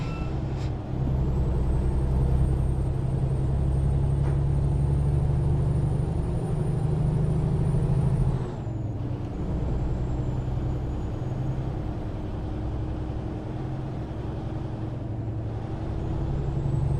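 Heavy truck in American Truck Simulator rumbling steadily with a high air-brake hiss that cuts off abruptly, leaving a lower continuous engine drone as it slows.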